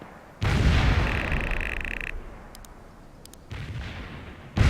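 Mortar strikes land in a war video game, heavy deep booming blasts with rumbling tails, one large hit early and more later, alongside a brief synthetic tone and faint beeps.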